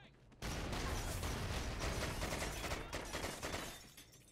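A flashbang grenade in Call of Duty Ghosts Search and Destroy detonates with a sudden loud burst, followed by several seconds of harsh, noisy ringing that gradually fades.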